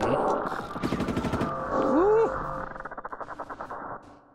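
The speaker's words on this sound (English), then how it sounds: "someone is like shooting with some futuristic gun" A synthetic futuristic gun effect from the Soundpaint Wild Noises library: a bright burst of rapid pulsing shots and a rising-then-falling whine, followed by a fast run of stuttering bursts that cuts off abruptly.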